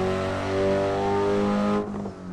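Race car engine at full throttle in the Assetto Corsa racing game on the Nürburgring, a loud, close, sustained rising howl with strong harmonic tones that abruptly drops off near the end as the throttle lifts.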